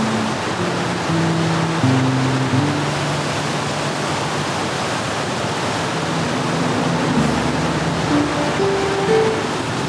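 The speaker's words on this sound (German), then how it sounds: "Der Fluss Litlo stürzt hier mit ziemlichem Getöse ein paar Meter tiefer." The Litlo river in southern Norway roars as it plunges a few metres beside a former railway bridge, a steady, dense rush of water with no voices.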